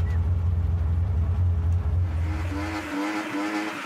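A car spinning in a car-spinning event roars with a loud, close engine. Squealing tires rise into a whining tone over the last second or so.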